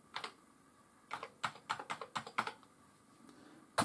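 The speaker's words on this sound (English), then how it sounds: "I'm just going to type in Star Wars" Typing on an Amiga 1200 computer keyboard: a short burst of key taps, a pause, then a quick run of about ten crisp, close clicks and one final loud keystroke, with no talking.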